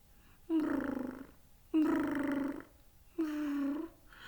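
A domestic cat purrs in three long, rumbling bursts of about a second each, separated by short pauses, close and fairly loud against a quiet background.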